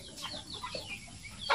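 Heritage chickens cluck in a free-range area, a few soft, scattered clucks and chirps over a faint background hiss, with a slightly louder call at the end and no voices.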